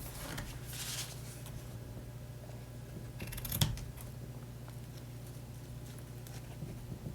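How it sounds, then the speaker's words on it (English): Scissors trim the ends of ribbon or twine tied on a handmade card, giving one crisp snip midway over a steady low room hum, with faint rustling around it. "And then all we have to do is cut the ends."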